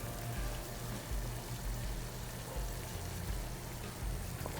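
Molten metal is poured into a Delft clay mold in an open pour, making a quiet, steady hiss and trickle that runs for several seconds without pause and without speech.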